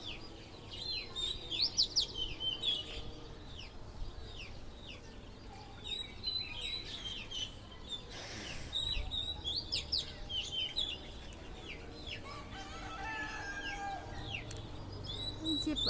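Many birds flying high in the sky after rain chirp and tweet in repeated bursts throughout, mostly distant but clear, over a soft outdoor background.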